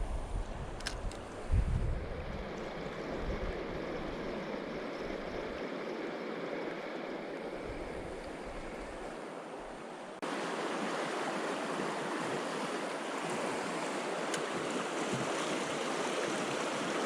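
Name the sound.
river rapids flowing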